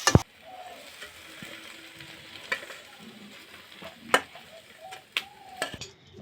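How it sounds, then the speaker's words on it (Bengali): Eggplant frying in a pan with crushed neem leaves being stirred through it, a low steady sizzle under scattered sharp scraping and clinking strikes of the spatula against the pan. "আমি এবার নাড়িয়ে নেব"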